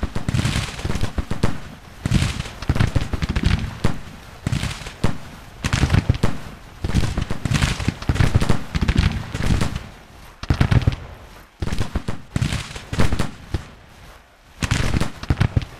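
Repeated booming artillery volleys in a war video game, loud bursts and rumbling blasts arriving in irregular clusters, some close and heavy, with brief lulls between salvos and no talking.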